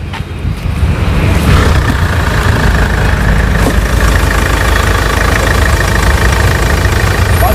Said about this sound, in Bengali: দিয়েছেন গাড়ি স্টার্ট।